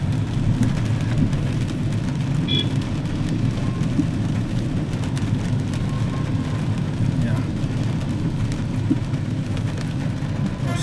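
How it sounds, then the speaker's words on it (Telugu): Steady, dense rain pours down on a street in Mehdipatnam, Hyderabad, with a constant wash of noise, low traffic rumble from stalled cars underneath and a voice talking over it. "చూడండి ఒకసారి, చాలా వర్షం"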